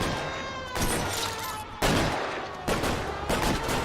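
Gunfire in L.A. Noire comes as four heavy, loud shots spaced unevenly, each followed by a ringing echo tail.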